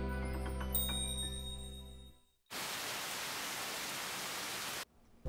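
Cartoon rain sounds as a sudden burst of dense, even hiss that follows a fading musical tone and lasts a couple of seconds before cutting off abruptly.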